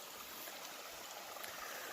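A shallow creek running low flows in a soft, constant hiss, faint and even throughout, with no talk.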